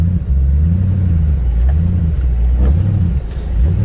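A GMC Yukon Denali XL engine drones loud and close while driving off-road, its low rumble rising and falling as the RPM surges in slow waves.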